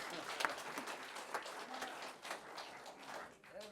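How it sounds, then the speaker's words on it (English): Scattered audience clapping at a county commissioners' board meeting after a National Public Works Week proclamation, a light ragged patter of hands with some brief voices mixed in, fairly quiet and room-distant. "Now you can clap."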